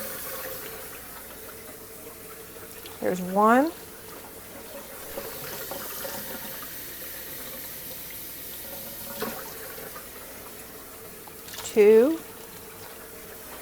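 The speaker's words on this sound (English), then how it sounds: "So 3 cups of lukewarm water." Lukewarm water poured steadily into a bowl for no-knead crusty bread dough, a soft continuous trickle running throughout while a voice briefly counts twice.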